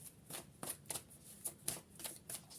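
Tarot cards shuffled by hand in a quiet room, a run of crisp riffling bursts at an uneven rhythm, close and fairly soft, with no talking over them.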